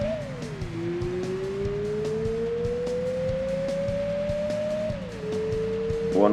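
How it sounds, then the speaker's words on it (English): A light K-car engine fitted with a racing muffler in the Gran Turismo 2 video game drones steadily, its pitch rising slowly and dropping at gear changes, loud and continuous with no talk. "Strange engine sound."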